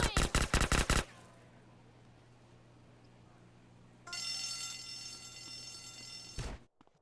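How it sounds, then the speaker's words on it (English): Gunfire in GTA San Andreas Multiplayer, a rapid burst of about five loud automatic shots at the start, then a quieter stretch, followed by a sustained electronic buzzing tone that cuts off near the end. "they started shooting at me"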